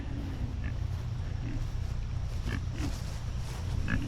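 Several pigs grunt intermittently on open pasture, short low snorts scattered across a steady outdoor background at moderate distance.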